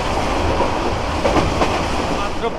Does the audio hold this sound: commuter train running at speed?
yes